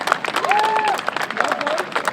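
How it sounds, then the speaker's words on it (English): An audience applauds at a live fire safety demonstration at Salem State University, a steady round of clapping lasting about two seconds, with a voice carrying over it. "We give them a round of applause."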